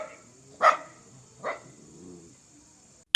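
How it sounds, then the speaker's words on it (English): A dog gives two sharp, close barks about a second apart, then a softer trailing growl before falling silent. "Dog."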